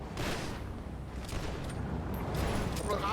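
Dense, rapid bursts of video game gunfire crackle continuously under a noisy background, fairly distant and muffled, with no clear pauses.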